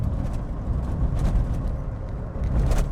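A Lancia Delta Integrale Evo 1, a 90s hot hatch, drives along a road, a steady low engine rumble and road roar heard from inside, loud and continuous with slight surges.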